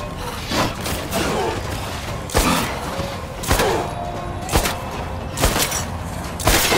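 Rapid video-game gunfire pours into a heart target during a solo survival challenge, a dense rattling fusillade broken by heavy thumping blasts roughly every second, loud and close throughout.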